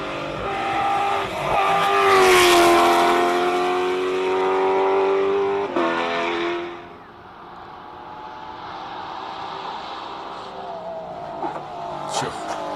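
A race car at a hillclimb launches and accelerates hard, its loud engine note climbing through the gears with tyre noise, then fading into the distance as it pulls away up the course.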